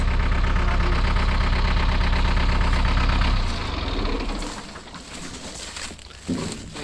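A lawn mower's engine drones loud and steady while mowing a footpath, then drops to a quieter idle partway through, with no talk.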